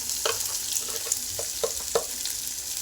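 Egg bhurji is stirred and fried in a pan, a constant close sizzle broken by several light spatula scrapes and taps against the pan.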